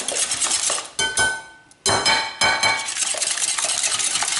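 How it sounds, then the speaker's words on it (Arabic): Sugar and eggs being beaten together in a bowl by hand, a quick run of scraping, clinking strokes with a short pause before the brisk mixing resumes, close and steady. "نخدمو مليح السكر مع البيض"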